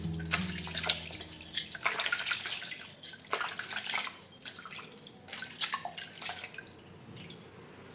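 Water splashing and dripping as a steel cooking pot is rinsed after scrubbing with Pitambari powder, in irregular close bursts of running and splashing water, with no talk.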